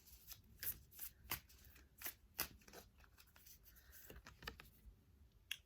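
A deck of slightly sticky oracle cards is shuffled by hand, giving a quiet, irregular series of crisp riffling snaps and soft slides at close range.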